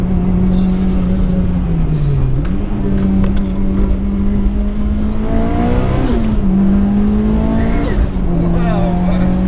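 A Mitsubishi Evolution VI rally car of about 630 bhp, its engine droning loud and close from inside the cabin, pitch rising and dropping through gear changes, with excited voices talking over it.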